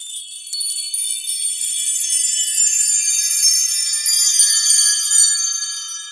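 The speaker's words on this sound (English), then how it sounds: "and it's a double row ohm chime." A Mark Tree double-row chime is swept once, giving a bright cascade of high metallic tinkles that rings on, shimmering and slowly thinning, with no damper bar to stop it.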